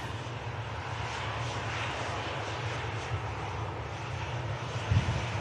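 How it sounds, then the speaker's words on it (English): A passenger jet on a positioning flight from Manchester Airport up to Leeds Bradford, its engine roar a steady broadband rumble held for several seconds, moderately distant, with no talk over it. "Aircraft positioning up to Leeds Bradford."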